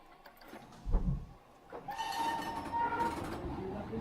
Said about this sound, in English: just ride the train